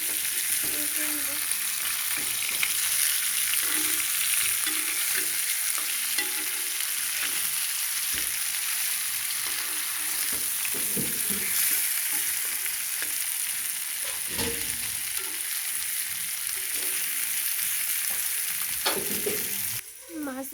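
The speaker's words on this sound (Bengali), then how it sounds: "মাছ ভাজি হয়ে গিয়েছে।" Tilapia fish pieces fry in oil in a pan, giving a constant crackling sizzle with occasional clatters and scrapes from turning the fish, and no talking over it.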